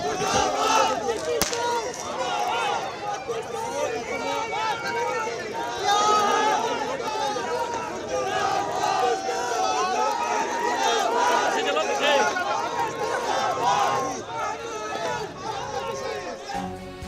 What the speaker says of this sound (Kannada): ಹರ್ಷೋದ್ಗಾರ ನಿನ್ನೆ ರಾತ್ರಿ ಮುಗಿಲು ಮುಟ್ಟಿತ್ತು